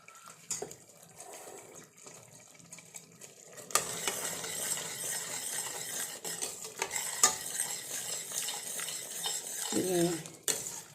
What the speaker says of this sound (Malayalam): അടി പിടിക്കാതെ ഇളക്കി കൊടുക്കണം